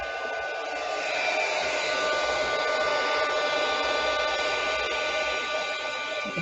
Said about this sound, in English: So let's heat emboss this. I'm going to turn this on for a bit and let it get hot.